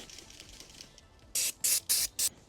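Four short, sharp hissing bursts of cleaning spray are aimed at a Paslode IM350+ nail gun during servicing, loud and close after a quiet stretch, with no talking.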